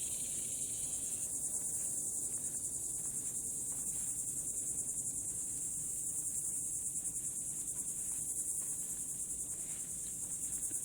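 Cicadas buzzing in Florida woods on the Space Coast: a loud, continuous high-pitched drone that holds steady throughout, with no talking.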